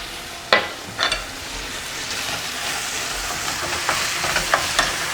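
Food for a Persian eggplant tahchin, seasoned with salt, pepper and turmeric, sizzles steadily in a pan, broken by a few scraping clinks as it is stirred up close.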